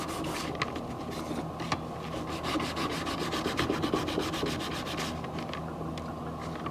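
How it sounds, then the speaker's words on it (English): Sandpaper rubbing steadily back and forth over a handmade tactical knife, a dry scratchy rasp repeating in even strokes, close and moderately quiet, with no talking. "So now that I have that completely sanded down"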